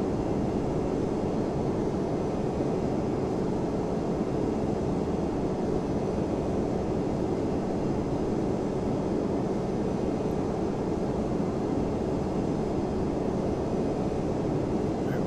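A Boeing 767-300 rolls along the taxiway in Flight Simulator X, its engines a steady, even roar with a windy rush and no change in pitch, heard alone.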